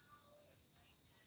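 Crickets chirp in the afternoon as a continuous high, steady trill, faint and distant-sounding, with no other sounds.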